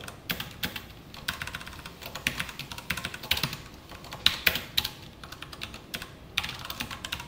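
A computer keyboard is typed on in quick, uneven bursts of sharp clicks, close and fairly loud, with short pauses between runs of keystrokes.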